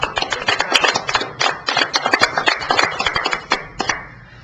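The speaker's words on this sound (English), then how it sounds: "would you join me in applauding your management team?" A small group at a city budget meeting claps for the management team: close, distinct hand claps in an uneven patter that dies out after about four seconds.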